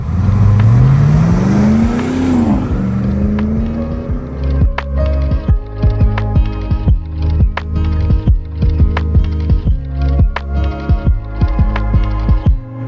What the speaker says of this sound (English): Urban Brute is powered by our GM LS3 V8 engine with 6-speed automatic